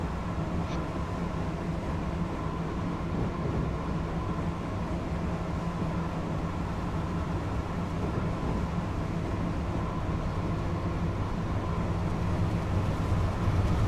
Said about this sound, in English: There you go, Acela train 2151, scenario 219 from Gary.